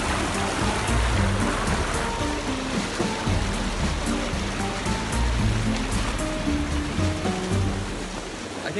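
Running water at Binaliw Falls in Bohol rushes in a loud, constant, close wash of broadband noise that keeps up steadily throughout.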